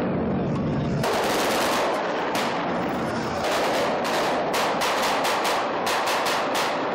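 Dense gunfire rings out during a police special forces open-day demonstration staged for spectators, loud bursts and rapid volleys of shots crowding one another with little pause throughout.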